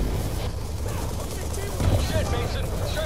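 Helicopter in the Call of Duty: Black Ops 2 video game, a steady rotor and engine drone filling the scene with battle noise, while voices talk over it.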